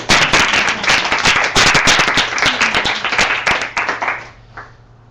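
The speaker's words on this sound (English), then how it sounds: "We applaud more than any other church." Church congregation breaking into dense, lively applause, many sharp claps overlapping in a loud burst that thins and fades out near the end.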